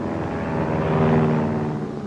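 An attacking fighter plane sweeps past in a 1944 B-17 gunner training film, a loud continuous propeller-engine roar that swells and holds steady across the pass, with no voices over it.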